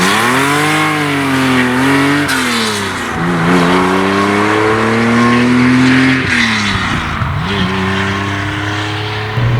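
A 1970s Porsche 911 ST race car driving, its engine loud and close with strong harmonic revs rising and falling through several gear changes, no talk over it.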